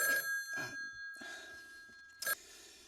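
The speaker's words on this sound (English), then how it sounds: "The phone rings." A telephone rings with sharp, bright bell-like bursts in short repeated pulses, fairly close, with quieter room noise and faint movement between the rings.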